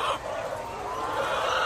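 Several laying hens on a small farm cluck together nearby in a continuous, busy chatter, with no other sounds standing out.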